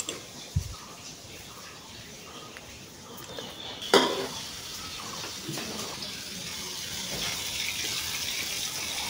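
Tomato chutney cooking in a pot, with a couple of sharp utensil clanks against the metal and soft stirring and faint sizzling between them, while a voice speaks briefly.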